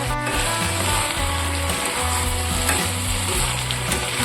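Chana masala spices sautéing in a hot pan, a steady loud sizzle with a spoon scraping and rubbing in repeated strokes, close and continuous without any talk.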